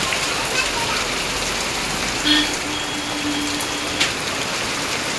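Steady heavy rain pours down in a continuous broadband hiss, with a faint tonal hum briefly running underneath.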